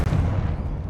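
Confringo blasting spell explosion in the video game Hogwarts Legacy: a sustained, loud, low booming blast with rumbling debris that stays dense for about a second.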